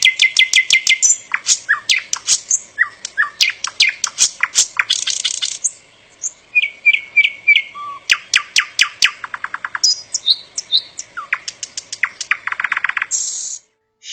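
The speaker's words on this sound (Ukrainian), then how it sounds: "Соловей володіє чарівним голосом, який зачаровує усіх без винятку." A nightingale sings alone and clearly, alternating rapid clicking trills with short whistled notes and bursts of varied phrases.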